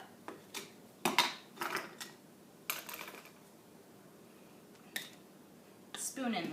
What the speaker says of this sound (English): Spoon in the flour.